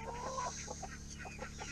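Broody hen clucking in repeated short, close clucks with a rhythmic pattern, fairly loud against a steady background hum.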